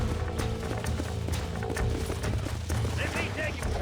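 Horse hooves in Red Dead Redemption clop in a steady running rhythm beneath continuous game ambience and music, fairly close and moderately loud throughout the short stretch.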